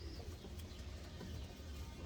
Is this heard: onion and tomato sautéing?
no